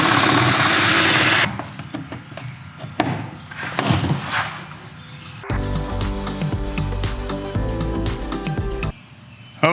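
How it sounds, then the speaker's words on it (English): A loud power drill bores a hole through an RV laminate countertop, whirring steadily at first, followed by choppy bursts, then a sustained, harsh mechanical drone. "I'm just drilling a hole big enough to get my router bit down inside."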